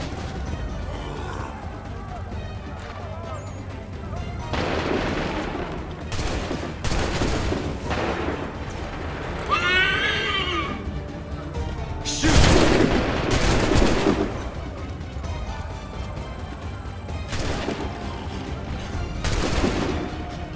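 A musket volley fight in the video game Assassin's Creed 3 brings scattered gunshots and crackling bursts of fire over battle noise, with a louder volley around the middle and voices speaking between shots.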